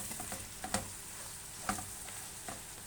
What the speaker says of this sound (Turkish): Soğanlar birazcık içinde onu da kavrulsun.